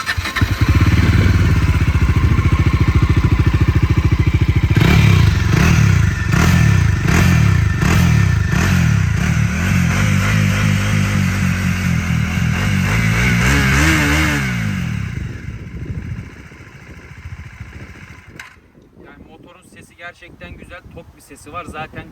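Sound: motorcycle engine starting and running

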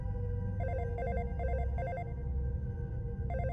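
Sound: mobile phone ringtone ringing, sound effect

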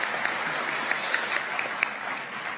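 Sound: audience applause

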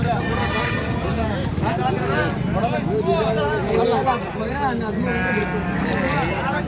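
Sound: lamb bleating at a sheep market

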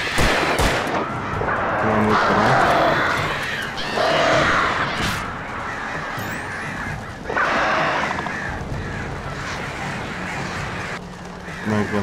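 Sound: crows cawing in a video game

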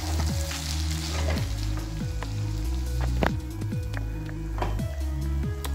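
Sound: stirring risotto in a pan

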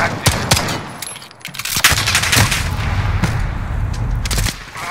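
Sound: enemy sentry gun firing in the video game Call of Duty: Modern Warfare

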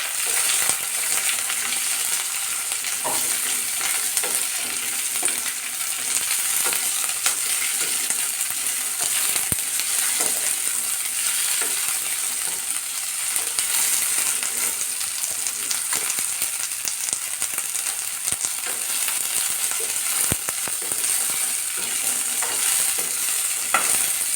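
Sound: onion and coconut frying with green chillies

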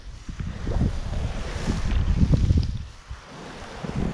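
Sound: strong wind on ice while fishing

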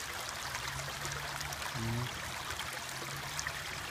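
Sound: flowing creek water

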